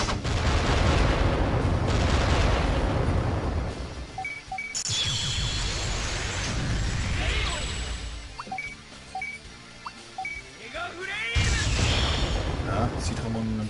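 Rapid bursts of blasts and crackling impacts from a Digimon Adventure video game battle, loud and dense, with a voice talking over the clamor and brief chiming effects.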